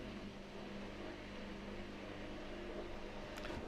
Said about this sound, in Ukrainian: Ось такий, друзі, рівень шуму під час самого прання.